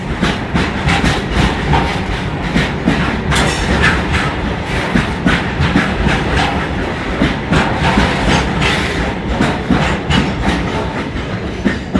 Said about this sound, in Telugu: Train is running go now.